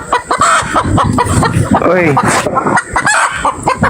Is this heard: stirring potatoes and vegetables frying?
no